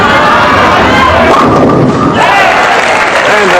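A bowling ball strike by a young bowler under the hot lights of a televised pro bowling match: a loud crash of pins, then crowd cheering and applause, with a commentator talking.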